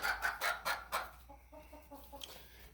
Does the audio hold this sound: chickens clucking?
yes